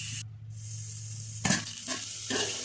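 Fenugreek leaves frying in a pan for sambar, a steady close sizzle with a few brief scraping stirs, and the noise briefly dropping out near the start.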